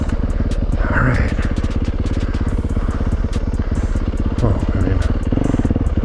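A Yamaha YZ450F dirt bike engine running steadily and close with a rapid pulsing thump, fitted with a new Dunlop MX34 rear tire, with clattering and a voice now and then over the engine.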